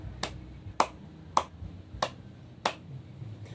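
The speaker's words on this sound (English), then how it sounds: "let's give everyone 5 claps" A classroom claps together five times in unison, with crisp, evenly spaced beats about half a second apart over a quiet background.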